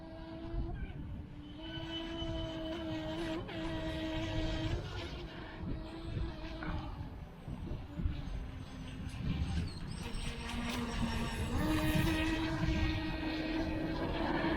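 The brushless motor of an Eachine EBT04 RC speed boat whines steadily with a buzzing drone, rising and falling slightly as it runs, with splashing and outdoor background noise throughout.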